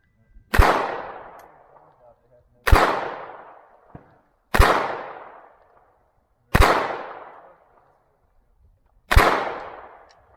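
Five sharp SAR 9 pistol shots fired at a target 7 yards away, each loud crack spaced about two seconds apart and trailing off with a short decay, no talking.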